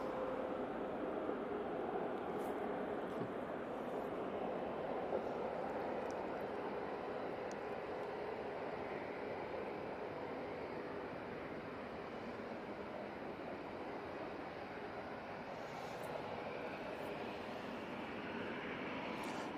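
A Dash 8 turboprop departing Manchester Airport: a steady, broad distant roar that holds evenly throughout with little change in loudness, faint and alone with no talking.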